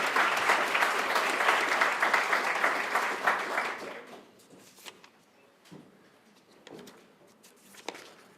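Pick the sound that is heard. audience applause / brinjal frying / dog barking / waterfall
audience applause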